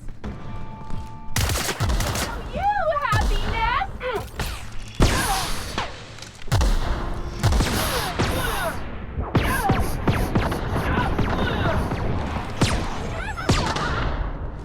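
A weapon fires repeatedly in The Outer Worlds during a fight, with loud sharp shots and impacts in bursts over combat noise and occasional spoken exclamations.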